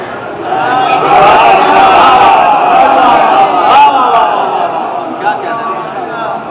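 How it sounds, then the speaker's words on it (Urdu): A large crowd at a Muharram majlis chants religious slogans in unison, a dense, loud swell of many voices that holds steadily for several seconds before easing slightly toward the end. "نعرے کی ضرورت جب ہو تو نعرہ لگائیے"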